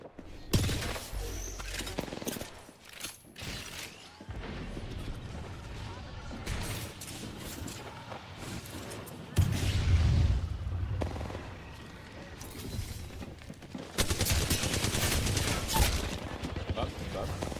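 Gunfire in the video game Smite, played as Tangia, rattles through a busy stretch of mechanical clatter and game effects, with heavier volleys near the middle and the end.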